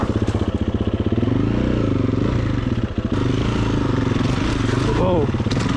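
A Stark Varg electric enduro motorcycle ploughing through deep mud on an enduro course, its steady whine and drivetrain tones loud and close throughout, with rising pitch sweeps near the end.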